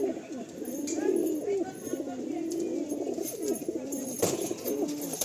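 A male pigeon coos in repeated low, rolling phrases that carry steadily close by, with faint chirps from other birds in the background.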